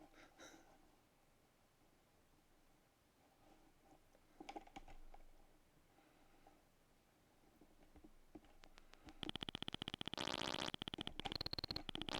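Keys clack on a ZX Spectrum computer keyboard during game play, faint scattered taps at first, then dense bursts of quick clicks mixed with bright game sound effects toward the end.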